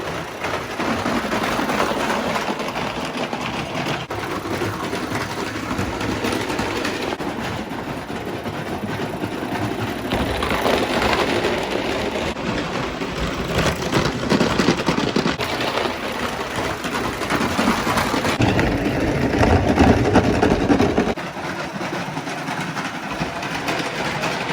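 A Mamod Mk 3 live steam model engine runs steadily, giving a continuous hissing, rapid mechanical chuffing and clatter that stays close and fairly even for the whole stretch, with no talking.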